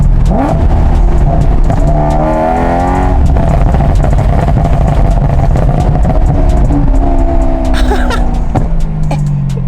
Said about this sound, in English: If you throttle, or if you pedal the throttle, it's crazy. Like, that's when all the crazy pops come out.